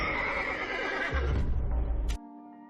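A horse neighs loudly in a battle scene from the 2011 Korean war film War of the Arrows: a long, shrill whinny over rumbling, then an abrupt cut to a steady low tone.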